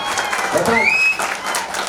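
A comedy show audience claps in a steady wash of applause while a voice speaks over it.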